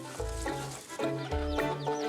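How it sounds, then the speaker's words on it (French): A hen clucks repeatedly in short, rhythmic bursts, with faint high peeping of chicks scattered throughout, close by. "une maman poule propose à ses petits une promenade gourmande"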